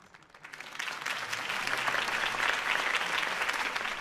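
A crowd applauds after a campaign speech in the Batman Telltale video game, clapping swelling quickly from quiet to a dense, sustained roar of many hands that continues steadily to the end.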